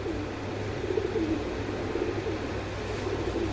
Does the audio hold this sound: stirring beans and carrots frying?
no